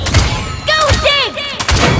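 Bursts of enemy gunfire in the online hero shooter Paladins, sharp close shots at the start and end with warbling, sweeping tonal game effects ringing between them.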